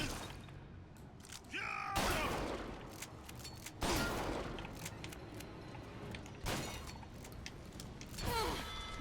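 Gunfire in Bioshock Infinite comes as several sharp, separate shots spaced a couple of seconds apart, fairly close and punchy, with mechanical clatter and quieter in-game ambience between them.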